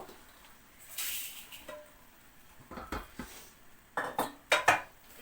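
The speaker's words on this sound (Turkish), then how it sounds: "bir yandan bulaşık yıkıyor" Dishes and cutlery clatter and clink in a few sharp bursts as they are washed, with quiet gaps between, close by and without talk.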